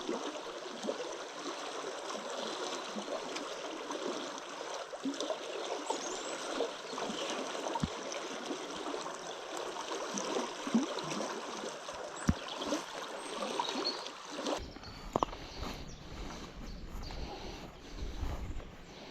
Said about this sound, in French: il y a le petit ruisseau à traverser là pour accéder au coin